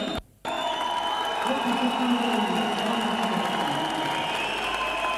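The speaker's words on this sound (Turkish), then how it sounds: "Hepinizi tekrar alkışlıyorum" Sustained applause from a crowd at a Turkish provincial party congress, dense steady clapping filling the hall after a brief cut, continuing evenly to the end.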